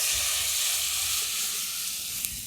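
Hot water hits moong dal frying with spices in a pan, producing a loud, steady sizzle and hiss that slowly eases as it settles.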